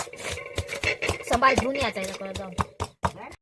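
Green chilies and garlic are pounded with a pestle in a mortar, giving steady, close thuds at a quick regular rhythm, with a voice talking over the pounding.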